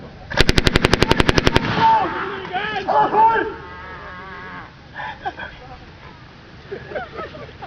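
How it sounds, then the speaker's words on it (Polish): A rapid burst of about fifteen light machine gun shots rings out loudly, followed by a voice and fainter rumbling noises. "Wtedy dopiero ścisnął spust RKM-u."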